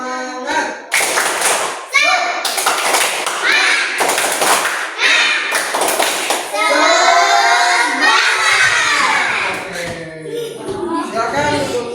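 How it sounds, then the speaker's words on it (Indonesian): A third-grade class performing the tepuk semangat clapping chant: bursts of rhythmic hand claps and thumps interleaved with children chanting together, loud and close in a classroom. "Tepuk semangat."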